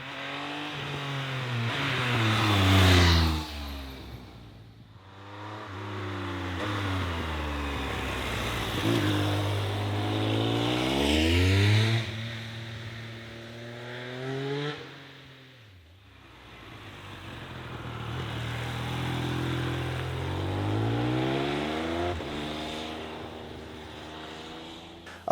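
A Triumph Speed Triple 1200 RS triple-cylinder engine revs up and down through several gear changes, its harmonic tone rising and dropping in repeated sweeps with brief pauses between pulls, loud and close with no talking.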